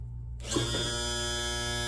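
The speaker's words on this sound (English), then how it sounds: "Let's see if we can get the power trim tilt going up and down." Power trim and tilt motor on a used outboard motor whirring steadily after a brief start, a close continuous electric motor hum with a steady buzzing tone and no talk.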